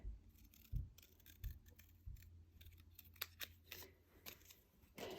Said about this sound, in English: I want to cut out my stamped images.